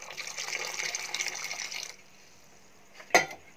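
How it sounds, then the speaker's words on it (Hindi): About a cup of water pours into thick curry gravy in a pan for malai kofta, a steady liquid splash for about two seconds, then quiet and a short sharp clink near the end. "साथ में ऐड करेंगे करीब 1 कप पानी"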